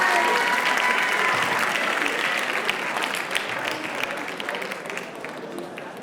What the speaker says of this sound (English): let's give a round of applause again to our teachers who did Choo Choos and a ride